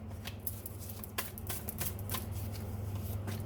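Tarot cards are shuffled and drawn from a deck, producing a steady riffle of papery flicks and soft slaps over a low background hum, with no talk.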